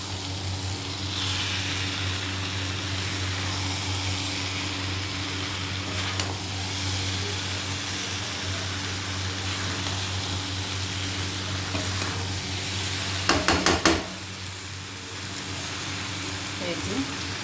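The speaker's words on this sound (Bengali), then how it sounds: "এবার এর মধ্যে এঁচোড়টাকে দিয়ে দিলাম। খুব আলতোভাবে নাড়া দিতে হবে।" Young jackfruit frying in a pan while being stirred gently gives a steady, soft sizzle under a low background hum, with a short burst of scraping clatter near the end.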